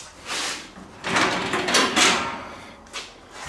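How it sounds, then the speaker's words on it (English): Plastic radiator cowling on an old barn-find vehicle being unclipped and lifted away, giving a few close scraping and clattering rattles in separate bursts with brief pauses between them. "just take the radiator cowling off"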